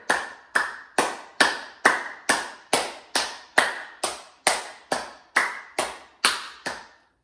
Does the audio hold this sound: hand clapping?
yes